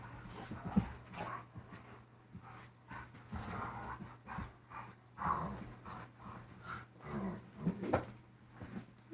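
Two German Shepherd dogs whimper, pant and scuffle while playing indoors, faint and intermittent over a steady low hum, with soft thumps and movement throughout.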